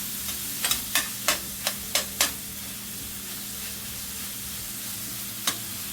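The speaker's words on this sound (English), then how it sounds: "you just fry the saltfish up on this side" Saltfish fries in a pan with a constant soft sizzle, while a spatula clacks against it in a quick run of six or seven strikes, then falls quiet before one last tap.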